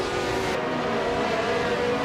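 A 1967 Ferrari 312 race car in a racing video game, a loud, continuous high engine drone that holds steady without a break.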